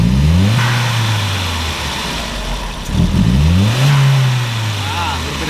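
A 1999 VW Passat 1.8T engine with a faulty MAF sensor, hesitation and rough idle gets snap-throttled twice, each blip rising sharply from idle then falling back, loud and close with a voice talking over it.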